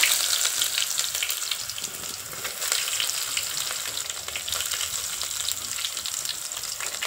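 Onion dropped into hot oil with cumin seeds for a spiced rice dish with fresh pigeon peas, a loud continuous sizzle and crackle close to the pan, with occasional stirring scrapes.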